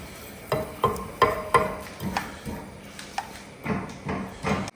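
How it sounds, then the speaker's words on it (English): Sugar melting into caramel in a pan on medium heat, heard as a series of sharp scraping and knocking stirs against the pan over a soft sizzling hiss, irregular and close. "On the medium heat, you can see our sugar is melting, our caramel is doing perfect"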